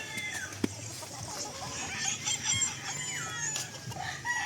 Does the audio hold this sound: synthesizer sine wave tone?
no